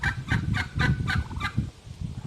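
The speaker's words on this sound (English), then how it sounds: "My turkeys are making a visit." Turkeys gobble nearby in the country, six quick, loud bursts in a steady rhythm, with no talking over them.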